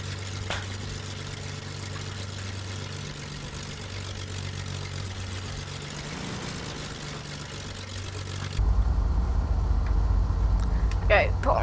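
Aircraft engines idle steadily in the FSX flight simulator, a continuous low drone that shifts to a louder, deeper rumble near the end as the engines are shut off.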